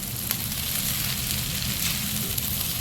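Pav bhaji pulao rice is stirred in a hot pan, giving a close, continuous sizzle and crackle with soft scraping from the mixing.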